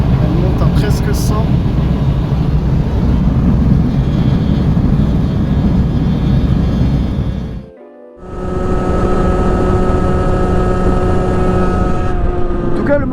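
A Derbi motorcycle engine drones loud and close at nearly 100 km/h on a gentle downhill stretch, holding a steady high pitch with one brief dip before pulling strongly again.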